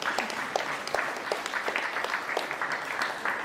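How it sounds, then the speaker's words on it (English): Steady applause from a crowd, dense overlapping claps filling the whole stretch at a moderate, even level. "So can we give a round of applause to the parents?"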